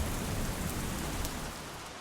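Steady rain falls as a soft, even hiss with faint patters, fairly quiet and unbroken throughout.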